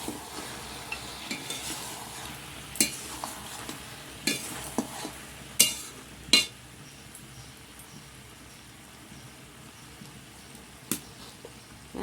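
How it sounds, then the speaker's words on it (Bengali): Meat frying in oil with garlic paste, a soft continuous sizzle under scattered sharp clinks and scrapes of a utensil stirring against the pan, with no voices. "এই যে এবার তেলেতে দিয়ে দেবো এই তেলেতে নয়, মাংসের উপরে দিয়ে দেবো রসুন বাটা।"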